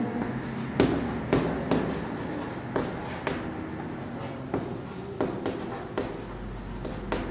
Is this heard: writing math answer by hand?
yes